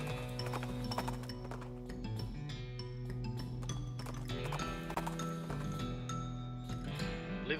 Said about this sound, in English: The horse reluctantly agrees and trots off, leaving the binoculars behind.